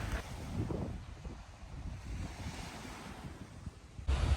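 Sea waves wash onto the shore at Rabbit Island (Koh Tonsay), Cambodia, a continuous rushing surf mixed with heavy wind buffeting the microphone, with no voices.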